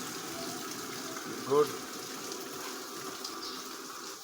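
A newly installed water pump delivers water at full pressure, a steady rushing gush running throughout beneath a man's brief speech.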